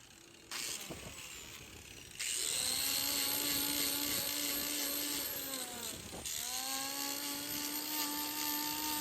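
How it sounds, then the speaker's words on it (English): A power grinder trims a cow's hoof, whining at a high pitch; it speeds up in two steps, dips briefly and then runs loud and steady. "I'm just really gently touching this up with the grinder"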